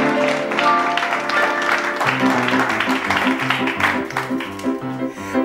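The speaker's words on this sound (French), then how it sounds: "qu'on applaudit très fort" Audience applause for a guest on a French comedy TV show, loud and sustained, blended with background music carrying a rhythmic bass line.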